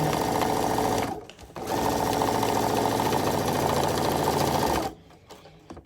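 A sewing machine stitching along a quilt seam, running steadily at high speed with a loud even mechanical whir, pausing briefly once and stopping near the end.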